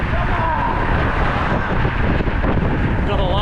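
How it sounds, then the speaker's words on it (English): A car rushes toward the listener on a New Zealand backcountry road, its steady engine and tire roar mixed with heavy wind buffeting throughout, loud and close. "we're going to a wide angle as a car is heading directly towards us"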